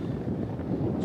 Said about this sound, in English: it is getting a little bit windy